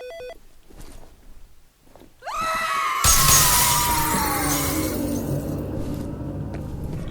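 Window glass bursts and shatters loudly all at once in the horror shooter game F.E.A.R. Extraction Point, followed by a sustained crash of falling shards and rumbling, after an eerie rising tone.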